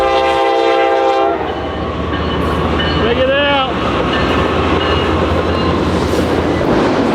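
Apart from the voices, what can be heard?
two trains passing by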